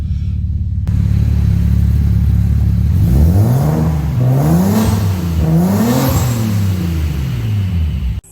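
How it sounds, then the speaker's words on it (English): A car with a single-turbo N54 engine idles with a steady low rumble, then revs repeatedly, the pitch climbing and falling in several wavering sweeps, loud and close. "she does sound good. She sounds like a bit of a Supra"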